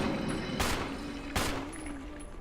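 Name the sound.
gunshots in video game Resident Evil HD Remaster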